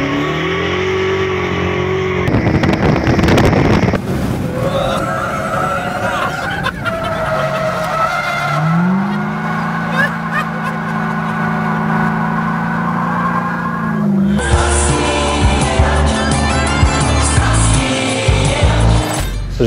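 A Ferrari race car drifts around a track in Las Vegas, its engine roaring and shifting pitch as the tires squeal through the slide, loud and continuous.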